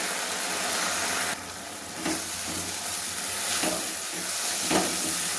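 Boiled dal poured into hot tadka for dal tadka, a loud steady sizzle and steamy hiss with bursts of crackle and stirring as it settles, no speech over it.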